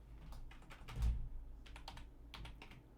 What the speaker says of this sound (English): Let me type this up.